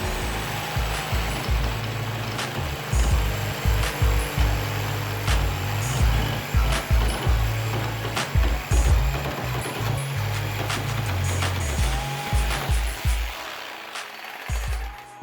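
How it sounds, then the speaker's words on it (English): Power saw with a Bosch blade cutting wooden corner pieces at a 45-degree angle, a loud continuous motor drone broken by rhythmic chattering bursts of cutting that lasts nearly the whole time, then cuts out near the end. "We'll go ahead and cut our corner pieces here at the 45-degree angle we marked out earlier."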